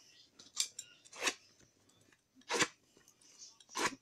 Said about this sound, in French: il vous suffit de faire un trou au milieu ou une petite fente avec un cutter pour pouvoir passer